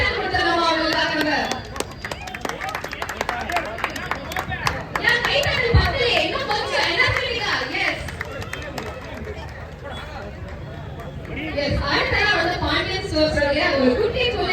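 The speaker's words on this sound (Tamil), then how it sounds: "ஒரு பெரிய கைத்தட்டல் கொடுத்துடலாமா அவங்களுக்காக?" Audience applause and cheering at a store opening event for Sekar Hypermarket in Thirukoilur, a dense crowd clapping loudly and steadily with chatter mixed in, dipping slightly midway before swelling again.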